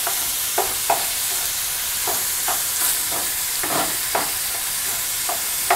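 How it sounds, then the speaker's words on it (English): Meat browns in olive oil in a skillet for a tamale pie, giving a steady close sizzle broken by occasional scraping stirs of a spatula, and no voices. "I'll let the meat brown just a little bit."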